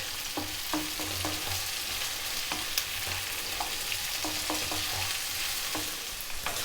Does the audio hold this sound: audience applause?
no